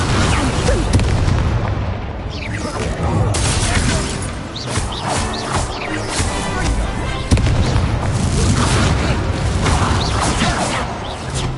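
Spell-casting in Hogwarts Legacy, including the Incendio fire spell, as a loud churn of booming blasts and whooshing bursts that overlap throughout, with a sharp hit near the end.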